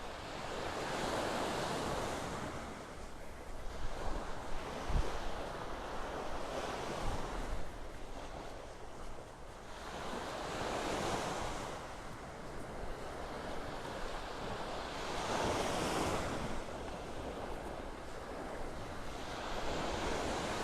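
Ocean surf on Vanderbilt Beach in North Naples, Florida, with an incoming tide: waves wash ashore in slow rolling surges every few seconds, under steady wind noise on the microphone, with no voices.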